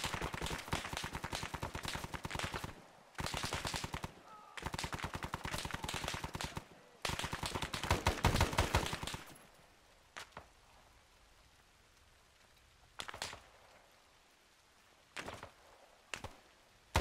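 Sustained machine gun fire in the video game ARMA 3 S.O.G. Prairie Fire, rapid loud bursts lasting a couple of seconds each with brief gaps, then quieter scattered single shots and short bursts further off.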